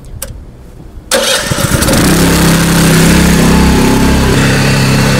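A small engine-powered agricultural sprayer cranks and catches after a brief quiet start, then roars continuously at a steady loud mid-pitched idle up close, with no talking over it.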